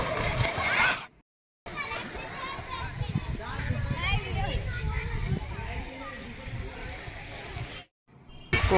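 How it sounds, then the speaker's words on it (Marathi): Children sliding down a slide and jumping into an outdoor swimming pool near Dapoli in Konkan, with continuous sloshing water and excited kids' voices, loud and busy, broken by two short silent gaps. "इथून घसरगुंडीतून मुलं सरकत पाण्यामध्ये उड्या मारतात."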